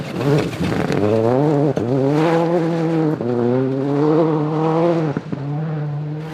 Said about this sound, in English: 5 seconds behind David Bogie and Kevin Ray, who seemed to be getting to grips with their new Ford Focus World Rally car